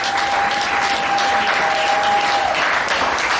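Steady, dense applause from an audience at a reception after a doctoral thesis defence honouring Dr Olive Kisile, continuous and fairly loud throughout with no break.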